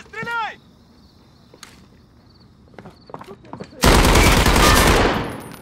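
Automatic gunfire in Call of Duty: Modern Warfare Warzone: after quieter footsteps and scattered clicks, a loud, dense burst of rapid shots erupts and rattles on for nearly two seconds before trailing off.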